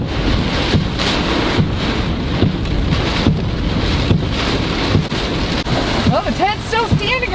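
Hurricane-force wind and heavy rain batter a truck during a severe Florida storm, a loud, continuous roar and rush that holds steady throughout, with faint voices near the end.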